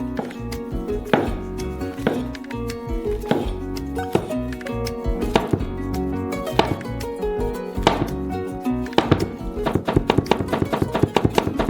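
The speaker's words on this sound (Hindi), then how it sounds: "जबकि ये गर्म हो रहा है, हम मशरूम्स को काटेंगे।" Rapid, steady knife chops through mushrooms on a cutting board, many crisp taps in quick rhythm, close and fairly loud, with no talking.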